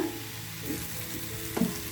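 Chopped tomatoes fry in a spoonful of oil in a pan until soft, giving a gentle, continuous sizzle with a brief stirring scrape near the end. No one speaks.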